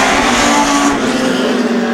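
Legend Cars race cars roaring down the back straight during a summer heat race at night, loud sustained engine noise from several cars at close range.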